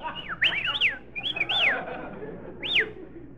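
Loud, bird-like rising and falling whistles sound in quick bursts and one later single whistle, from a person whistling to hail a taxi cab, over a quiet hum with no talk.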